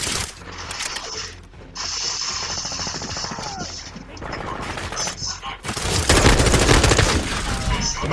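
Dense automatic gunfire rattles in rapid bursts during a Call of Duty Modern Warfare 2 match, loud and close, with a heavier sustained volley near the end and a voice speaking over parts of it.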